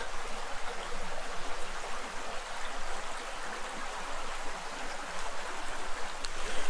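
Cold stream water gushes steadily out of a cave at Forestville Mystery Cave State Park, Minnesota, a constant broadband rush heard close up with no talking.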